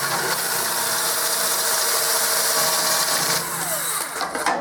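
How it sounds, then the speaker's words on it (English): An electric drill boring a hole through metal held against a guide, a loud continuous grinding whir with rattling, steady close up and tapering with a slight change in pitch near the end. "stick this in and just start drilling"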